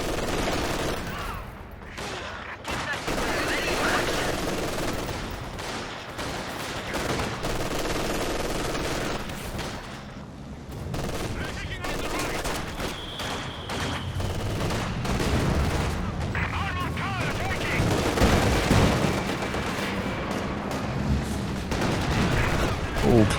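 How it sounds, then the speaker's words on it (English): Katyusha rocket artillery fires at close range on Grenadier infantry in Company of Heroes 2, mixed with ongoing battle noise: repeated rumbling blasts and crackling bursts over about twenty seconds, with a commentator talking throughout. "close range Katyusha on the Grenadiers"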